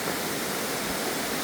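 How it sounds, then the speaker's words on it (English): A forest waterfall on a trekking route beside a hanging bridge, heard as a steady, loud, broadband rush of falling water that stays constant throughout with no voices. "see this waterfall"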